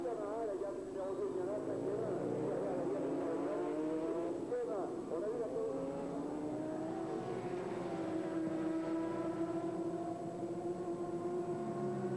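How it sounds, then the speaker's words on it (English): Endurance racing motorcycles, including a Suzuki team bike, roar past at a 24-hour race, a continuous engine drone with rising and falling pitch sweeps as machines pass, mixed under commentary. "Suzuki number 2 team being passed"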